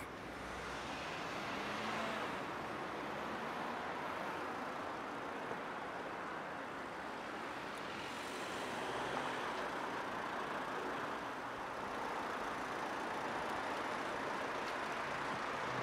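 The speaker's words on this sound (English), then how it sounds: "So I took Conway Street to show the increase in traffic." Road traffic on Conway Street, a steady wash of passing cars and heavier vehicles that continues without a break and without any voices.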